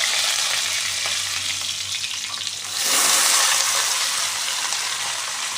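Cut potato pieces drop into hot oil in a pan for a cabbage dish, a loud, steady close sizzle that flares brighter partway through as more pieces hit the oil.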